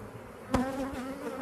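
Honey bees in an open hive colony, frames pulled apart during a beekeeping inspection, give off a continuous close buzzing hum with a brief louder burst as one bee passes near.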